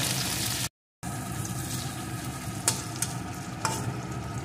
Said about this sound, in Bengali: এখন এর ভিতরে দিয়ে দেব একটা টমেটো কুচি। এটাকেও একটু ভেজে নেব।